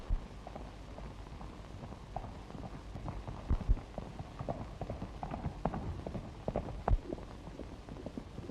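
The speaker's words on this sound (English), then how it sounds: "Here comes his horse." Horse hooves clip-clopping at a steady walking pace, soft and somewhat distant over a low background rumble.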